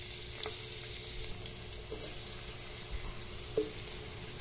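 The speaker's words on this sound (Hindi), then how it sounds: "अब प्याज को अच्छी तरह से फ्राई करके लेना है।" Chopped onions frying in hot oil for chicken pulao, a steady soft sizzle running throughout at low level with a few faint clicks of stirring.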